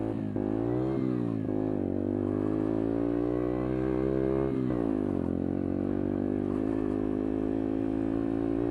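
Herald Maverick 125 motorcycle engine running steadily while riding along an off-road track, a loud continuous drone with rising and falling pitch as the throttle changes, close to the microphone with wind rumble.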